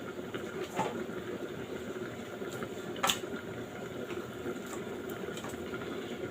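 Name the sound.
frying sarang puti fish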